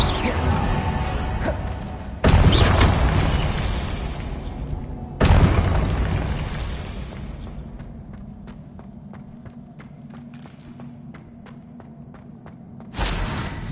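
Confringo explosive spell cast in the Hogwarts Legacy video game: sharp booming blasts with whooshing bursts, each followed by a decaying rumble, alongside scattered ticking clicks and quieter impacts between them.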